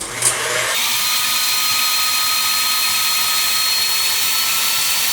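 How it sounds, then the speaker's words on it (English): A big stand mixer whisks five egg whites toward stiff peaks, making a continuous, fairly loud whirring drone that starts after a brief clatter and runs steadily, with no voices. "we're going to take the 5 egg whites, and we're going to whisk those until they have stiff peaks."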